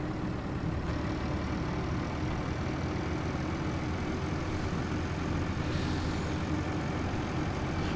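A truck engine in Farming Simulator 19 drones steadily and continuously, a low, even rumble with no distinct changes or breaks.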